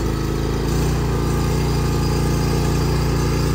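Carbureted Husqvarna mower engine running at a steady, loud drone with a throbbing low rumble and no pauses.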